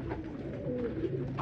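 Low rolling coos from pigeons kept in a loft form a near, steady murmur of overlapping throaty calls, heard alone without speech.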